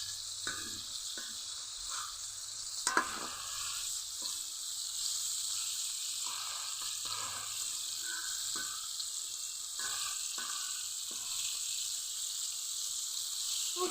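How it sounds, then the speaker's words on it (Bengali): Flour-coated chicken pieces fry in hot oil for a crispy chicken fry, giving a constant close sizzle with scattered small pops and clicks throughout and no talking. "এদিকে দেখুন চিকেনগুলোর এক পাশ ভাজা হয়ে গেছে"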